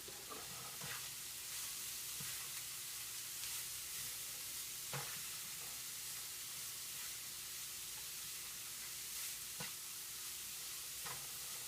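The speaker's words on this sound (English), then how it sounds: "And simply stir fry it." Cauliflower coated with curry powder and cumin powder stir-fries in a frying pan, giving a steady, quiet sizzle with occasional clicks and scrapes from stirring.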